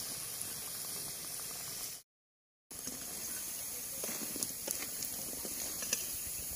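Pakoda deep frying in oil on a low flame, a soft continuous bubbling hiss with light crackles and pops, broken by a brief total dropout partway through.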